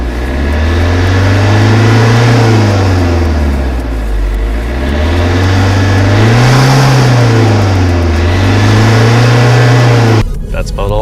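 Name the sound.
Alfa Romeo diesel car engine driving through Stelvio Pass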